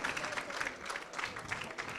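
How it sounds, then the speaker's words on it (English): An audience at a women's leadership workshop panel gives a round of applause, a dense, continuous patter of many hands clapping at moderate distance, fairly soft and steady throughout. "Please, let's give him a more deserving round of applause."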